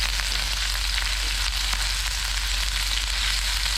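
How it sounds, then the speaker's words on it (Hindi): Ginger garlic paste sizzles steadily in hot oil, a tempering for saag with egg and chicken, a close, continuous frying hiss with no voices. "जी, तो आधा चम्मच अदरक लहसुन का पेस्ट डाल देते हैं।"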